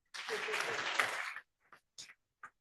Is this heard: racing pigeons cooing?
no